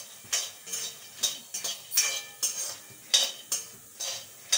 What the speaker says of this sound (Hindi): इसलिए फली को भून लेंगे धीमी आंच पे.